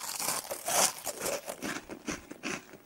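Crunchy eating of eggs in Garry's Mod, a quick series of close crisp crunches and crinkly bites at a quiet level, heard alone without talk.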